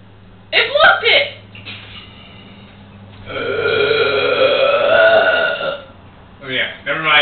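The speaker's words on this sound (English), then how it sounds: "That was my burp." A single long, loud burp during a burping contest, rising after a short burst of laughter-like voice and trailing into more vocal noise at the end, with people heard around it.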